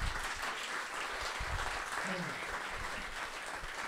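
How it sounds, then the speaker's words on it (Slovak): Audience applause at a talk show, a dense, steady wash of clapping that fills the whole stretch at a constant level, with a brief voice rising faintly beneath it midway. "Wow, veľký potlesk."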